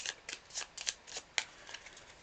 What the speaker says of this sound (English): We've run out of cards, so I'm going to bring back the 2 we discarded previously, shuffle them all back up